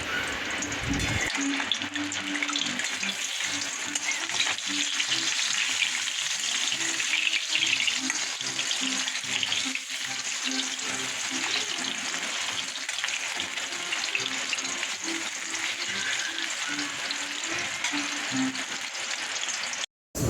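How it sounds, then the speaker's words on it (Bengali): Eggplant slices fry in a pan with a steady, moderate sizzle of hot oil continuing for about twenty seconds, close and unbroken, with no talk over it. "বেগুন ভেজে রাখলে না কোনো টেস্ট নেই এমনিতেও এখন বেগুনের কোনো টেস্ট নেই তাই গরম গরম ভাজছে"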